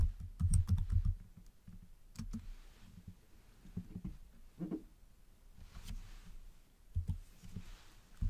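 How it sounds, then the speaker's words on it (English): Computer keyboard keys being typed on in short irregular bursts of clicks, fairly close and quiet, with no talking over them. "Let's type Stagehand here."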